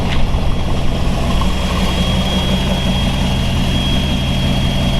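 A 1932 Ford Hi-Boy roadster with a Brookville steel body, its engine catching with a brief burst and then settling into a loud, close, steady idle with a deep low rumble. No one speaks.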